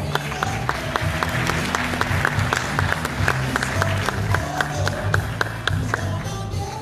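At a pageant event, an audience applauds while a guest is welcomed onstage. Individual claps stand out sharply over a moderate crowd, with background music or voices running underneath.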